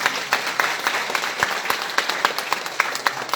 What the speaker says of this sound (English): Can we give Riway a round of applause?